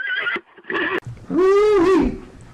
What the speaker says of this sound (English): Alas, our horse is loose.